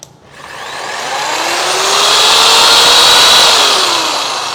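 An electric jigsaw motor spins up and runs loud and steady at its highest speed, a bright, whining buzz that holds close and continuous with no talking.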